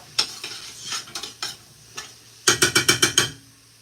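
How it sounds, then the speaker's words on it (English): Aromatics sautéing in a pot for chicken noodle soup, with scattered spoon scrapes and stirs, then a quick run of about six sharp clinks of the spoon against the pot near the end. "Gotta saute this stuff here."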